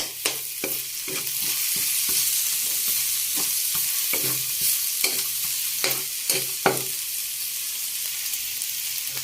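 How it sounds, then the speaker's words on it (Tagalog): Garlic and onion sauté in a pan greased with leftover ham oil, a loud steady hiss and sizzle broken by a series of clacking spatula strokes that fade out toward the end. "Nilagyan na po natin yung bawang at saka sibuyas."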